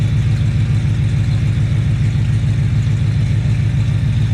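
A car engine idles steadily after repair work on its fuel lines, a close, even low rumble with a regular pulsing throb and no speech.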